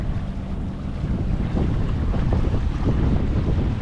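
Wind buffets a boat moving against a light current near a bridge, a loud rumbling roar of gusts over the microphone with water and waves beneath, no voices.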